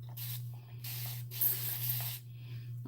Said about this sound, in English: So now what I'm doing is I'm spraying some tea